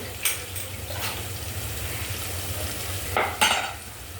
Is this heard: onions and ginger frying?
yes